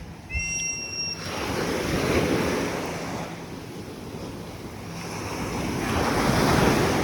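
Ocean waves wash onto an empty beach at El Nido, Palawan, a steady close surf with wind rushing across the microphone, rising and falling in broad swells over several seconds, and a few high bird chirps at the very start.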